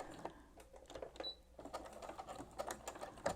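A sewing machine back tacking along a quilt block seam, running in short stop-start bursts of rapid close stitching with a brief pause partway through, heard alone.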